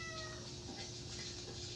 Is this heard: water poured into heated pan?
no